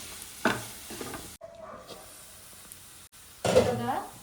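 Onions frying in a pan with a little salt, stirred in two bursts of scraping and sizzling with a quieter stretch between; close and moderately loud.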